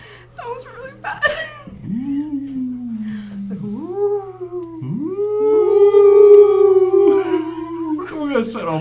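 People imitate a spooky ghost with their voices, drawing out long wavering howls that slide up and down in pitch, loud and close, with a brief laugh and murmured talk at the start.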